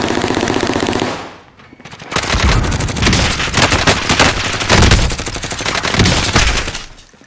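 Loud automatic gunfire in a Call of Duty Warzone Pacific match on Rebirth Island, a steady burst, a brief lull, then dense overlapping rapid fire that runs to the end.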